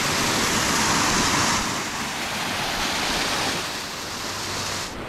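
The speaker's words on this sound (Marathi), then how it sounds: "सध्या पाऊस थांबला आहे तरी पण इतका फ्लो आहे बघा." Monsoon rainwater flowing along a path in Matheran after the rain has stopped, a close, continuous rushing and gurgling wash of water that swells slightly and eases off.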